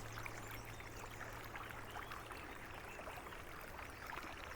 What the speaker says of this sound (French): Le grésillement des sauterelles se mêlait au clapotis d'un ruisseau